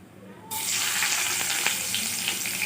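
Chopped onions go into hot oil already holding bay leaf, whole garam masala and cumin seeds: after a brief quiet moment a sudden loud sizzle bursts up and keeps crackling steadily.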